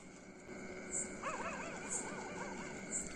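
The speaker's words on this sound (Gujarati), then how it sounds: "અહીંયા અવાજ સાંભળો તમે કૂતરાનો અવાજ સાંભળો" A dog whimpers and yips in a wavering, high-pitched whine lasting a couple of seconds, faint against a quiet background hum.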